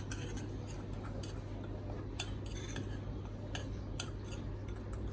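A spoon clinks and scrapes against a bowl while powdered English mustard is stirred in, a run of light, quick metallic taps over a steady low hum, fairly quiet and close.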